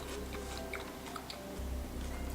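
Someone bites into a crunchy fried spring roll filled with pork bacon, chives, carrots and fungus, giving faint, scattered crisp crackles over a low steady background hum.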